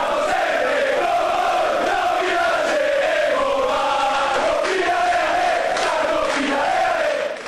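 Venezia football fans at Marco Polo airport chant stadium-style in a sustained crowd roar of sung chants that stays loud and continuous throughout.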